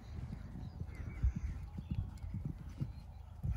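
Horse hooves cantering through a showjumping course, a steady run of dull thuds and clip-clops on the ground, close and fairly loud, with no talking.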